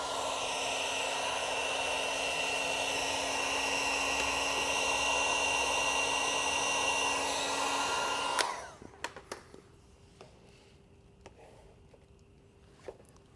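A heat gun warms vinyl wrap on a Tesla Model 3 Highland rocker panel, blowing with a loud steady whine for about eight seconds before shutting off, leaving faint clicks and light handling noises.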